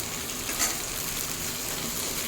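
Bata fish frying in hot oil in a pan, a steady soft sizzle and crackle throughout with one brief brighter spatter.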